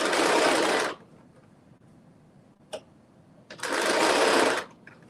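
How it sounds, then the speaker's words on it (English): A sewing machine understitches fabric in two short bursts of fast whirring stitching, each about a second long, separated by a quiet pause with a faint click, close and loud. "I realized the trick to doing understitching is making sure that you pull the fabric so that it does not bunch up."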